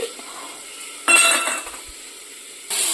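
Chopped tomato tipped into a hot frying pan during home cooking on a rainy day, a sudden loud sizzle followed by a softer hiss and a clink of utensils, then another burst of sizzling.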